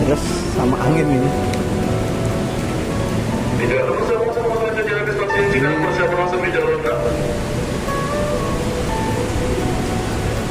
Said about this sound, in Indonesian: Hujannya tambah deras sama angin ini.